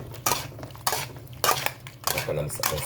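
A metal utensil stirs adobong sitaw with squid in a pan, making four or five distinct scraping clatters at an uneven pace, close up, with soft sizzling underneath.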